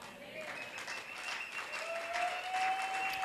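Congregation applause in a church rises and holds steady for a few seconds, a dense wash of clapping with a sustained musical tone running beneath it.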